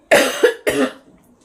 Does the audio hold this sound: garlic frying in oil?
no